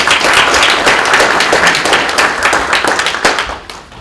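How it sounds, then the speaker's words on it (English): Lecture audience giving a loud burst of applause, dense overlapping clapping close by that carries on for a few seconds before thinning out at the end. "Let's give her a loud of applause to all her students."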